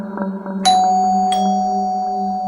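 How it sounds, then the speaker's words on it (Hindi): A two-tone doorbell chime rings clearly, a bright first strike followed by a second, with tones ringing out and lingering over a low steady hum. "तभी डोरबेल बजी।"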